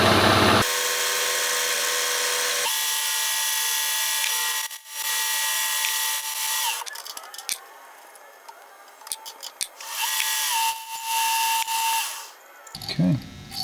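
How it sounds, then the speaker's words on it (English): A power drill whirs steadily at close range, drilling the unsupported end of a part to mark its center, then stops and starts in short bursts amid clicks and handling noises. "Drilling in that unsupported end isn't the best idea"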